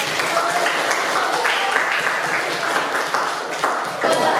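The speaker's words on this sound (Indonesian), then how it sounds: "Ya, tepuk tangan untuk Putri" Pupils in a classroom clap together for a classmate, a fairly close, continuous patter of hands that holds steady for several seconds.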